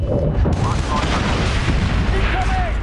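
Gunfire and rocket fire in the military shooter SOCOM 4: a dense, loud, continuous barrage of shots and booming explosions with a voice talking over the din throughout.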